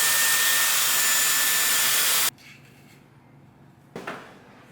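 A Dyson Airwrap blows hot air on its highest heat and strength settings, a steady loud whooshing roar that cuts off abruptly partway through and leaves quiet handling noise with a brief rustle.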